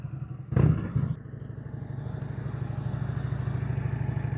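A motorcycle idles and rolls along at low speed during advanced slow-speed riding practice, a steady close engine hum with a brief louder burst of throttle near the start.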